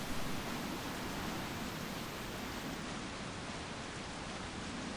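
Steady, even hiss of rain falls in Resident Evil 4 while the game's music has stopped. The downpour is a dense, unchanging wash throughout, with no voices.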